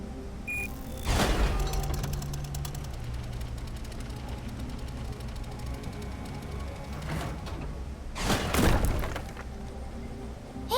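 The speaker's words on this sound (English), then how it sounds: "Okay, everything's ready. Now to watch the fireworks." Fireworks in the video game Tales of the Neon Sea: two bursts of crackling, booming bangs, one early and one near the end, separated by a quieter stretch of low rumbling.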